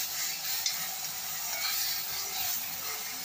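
Crushed shallots and ginger sizzle in hot oil as they are stirred, a steady bright hiss with faint scraping from the stirring.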